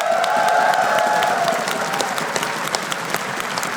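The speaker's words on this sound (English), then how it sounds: "Round of applause, please." Audience applause at ESL One Katowice 2014, a CS:GO esports semifinal in an arena, dense crowd clapping with some cheering that starts loud and gradually thins out.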